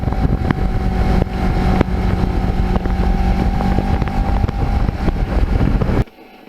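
A Kawasaki Ninja motorcycle cruising on a scenic autumn ride, its engine a loud, steady drone buried under heavy wind buffeting that cuts off abruptly near the end.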